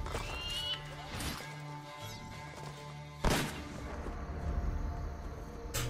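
A horse whinnies in Assassin's Creed: Brotherhood amid the game's music and ambience. A sharp crash lands midway, and fainter clattering follows.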